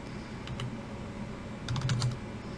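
A few quiet keystrokes on a computer keyboard while editing an SSH configuration file, sparse clicks in two small clusters, close and faint against a soft background.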